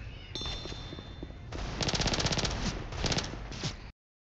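Rapid automatic gunfire from Left 4 Dead 2 rattles in loud, tightly spaced bursts, building after a brief lighter opening and cutting off abruptly near the end.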